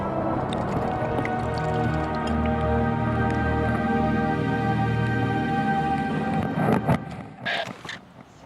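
Wet green moss squeezed to wring muddy water into a flashlight, with squishy, gurgling and dripping sounds close up, followed by a few sharper rustles and splashes near the end.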